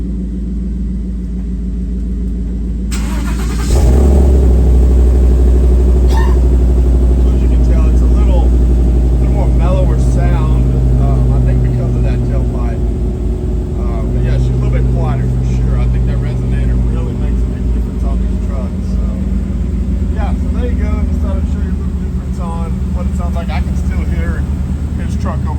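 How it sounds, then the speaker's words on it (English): A 2019 Ford F-150 with a Coyote 5.0 V8 and MBRP exhaust fires up after a few quiet seconds and settles into a deep, steady idle rumble up close, with someone speaking over it. "Definitely a really nice sounding muffler, and we'll go see what it sounds like when we drive it."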